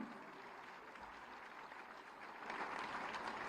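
Loud, sustained applause from a large audience at a Mission Shakti ceremony honouring women in Uttar Pradesh, swelling louder toward the end.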